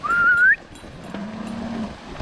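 Nelore cattle on a Brazilian farm give two moos: a higher, rising call, then after a pause a longer, lower drawn-out low, both fairly close and clear over quiet outdoor background.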